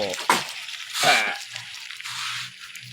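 Pork with holy basil stir-frying in a pan, a broad steady sizzle with a few louder scraping stirs near the start, close up and fairly loud, with low voices faintly underneath.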